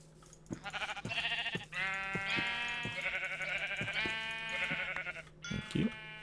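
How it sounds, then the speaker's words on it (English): Several sheep bleat in the video game Minecraft, a string of loud, wavering bleats one after another, close and clear, with brief pauses between calls. "A bunch of sheep."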